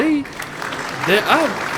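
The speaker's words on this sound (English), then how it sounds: "Give all three of these bands a round of applause." Crowd applause for three marching bands after field shows at a battle of the bands in the Palm Beaches, brief clapping heard beneath a loud, sing-song announcer's voice.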